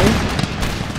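Musket volley in Empire: Total War, a dense burst of massed gunfire crackling and booming at once, loud and continuous for about a second with a rolling, smeared battlefield rumble.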